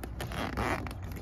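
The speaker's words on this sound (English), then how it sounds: "nice zippers." A zipper runs along the small carrying case for an Elitech DMG-4B digital HVAC manifold, a continuous close-up rasp lasting just over a second with no talking.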